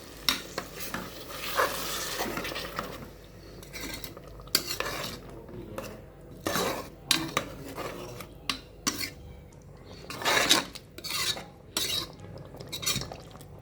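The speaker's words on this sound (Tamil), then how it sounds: "அதுவும் மிக்ஸ் பண்ணி விட்டுக்கலாம்." Chicken curry being stirred in a pot, a green hariyali curry with water just added, giving repeated scraping, clinking stirs against the metal over a faint sizzle, close and fairly quiet.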